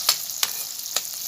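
Green chillies and spice paste frying in hot oil, with a steady soft sizzle and a few sharp stirring scrapes or spatters spaced through the stretch.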